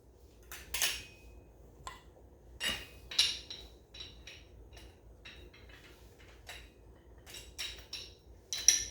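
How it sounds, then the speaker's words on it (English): Sharp metallic hammer strikes drive a bushing into a Harley-Davidson Touring fork slider with a bushing driver and washer, a dozen or so irregular close taps and clinks, fairly quiet, with no talking. "and then just drive the bushing"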